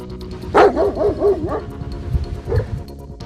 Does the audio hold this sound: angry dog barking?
yes